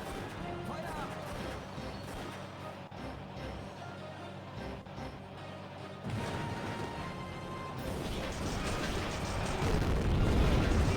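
Tank cannon fire from a video game battle: loud, continuous booming and crashing combat noise that swells toward the end, with people talking over it.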